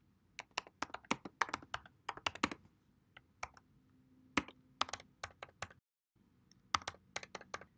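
Typing on a computer keyboard while naming an element in a flow-building tool; quick irregular bursts of close, crisp key clicks with short pauses between runs.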